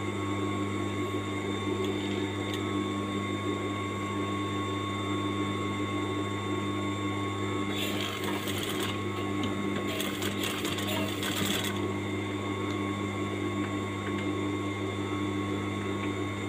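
An electric sewing machine runs steadily, stitching a wide temporary basting seam while making a double-welt pocket, with a continuous close motor hum and brief louder rattling bursts toward the middle.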